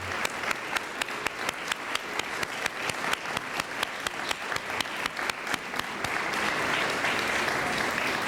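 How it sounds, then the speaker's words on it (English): Sustained, dense applause for honorees at a 1998 volunteer awards ceremony: many hands clapping steadily at moderate volume for about eight seconds, with no voices on top. "Let's give our honorees another round of hearty applause."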